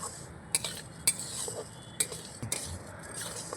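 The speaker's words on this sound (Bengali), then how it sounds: "চালটাকে ভালো করে ভাজা ভাজা করে নিতে হবে" Metal utensil scraping and clinking against a pot in a few sharp, irregular strokes, stirring raw rice being dry-fried for pulao over a soft background hiss.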